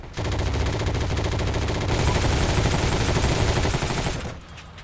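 Heavy automatic gunfire from the World War II shooter Heroes & Generals rattles in fast, sustained bursts, loud and close, filling nearly the whole moment before cutting off near the end.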